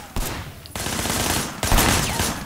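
Gunfire in the video game Sleeping Dogs: three loud, sustained bursts of rapid shots, each starting abruptly after a short gap and rolling on as continuous automatic fire.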